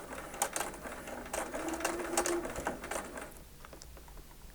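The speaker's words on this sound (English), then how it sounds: "and then start stitching with a few very small stitches" A sewing machine sews a few very small stitches at the end of a seam on a star quilt block, its rapid mechanical chatter running steadily for about three seconds before fading to quieter clicks.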